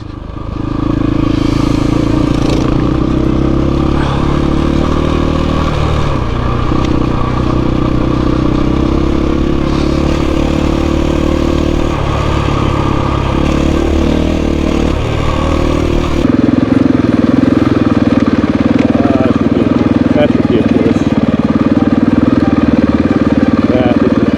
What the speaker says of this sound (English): We got a motorcycle oncoming.